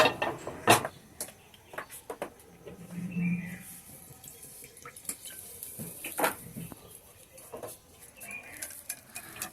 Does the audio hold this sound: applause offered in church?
no